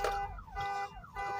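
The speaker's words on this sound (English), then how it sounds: "The truck next to us, the alarm went off." A truck's car alarm wails nearby in repeating falling sweeps, loud and continuous, cycling about every half second with no talking.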